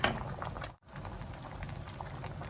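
A pot of bamboo shoot curry with fish, pumpkin and pumpkin shoots bubbles and pops softly and continuously, close by and quiet, with a brief dropout near the start and no speech.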